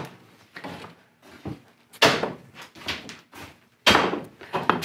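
A rubber hammer knocks the backs out of split bamboo culm sections for fly rod building, giving several dull, loud thumps at irregular intervals with quieter taps between them.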